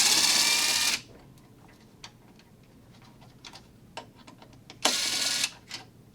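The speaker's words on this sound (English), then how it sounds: "we'll use a T25 to pull out this one remaining screw" A T25 Torx driver removes a screw from the handle of a DeWalt DWS782 miter saw, with two short, loud whirring bursts separated by quiet clicks and small ticks of handling, all close by.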